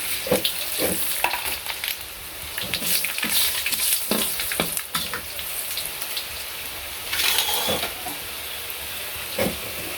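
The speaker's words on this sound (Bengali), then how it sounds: "শুকনো মরিচ আর তেজপাতা একটু কালো হয়ে গেছে, জিরা দিলাম, মিষ্টি সস দিলাম, তারপর রাঁধুনি দিলাম আর মেথি দিলাম।" Dried chillies, bay leaves and cumin sizzle and crackle in hot oil, a steady loud frying hiss with intermittent pops and stirring scrapes throughout, cooked for a village puja feast for sixty to seventy people.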